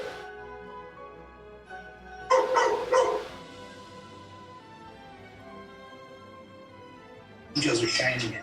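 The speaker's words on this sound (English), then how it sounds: "let's go sit with some dogs" Dogs at an animal shelter bark in two loud bursts of several rapid barks each, close by, with quieter whimpering and yips between them, while a person talks over the background.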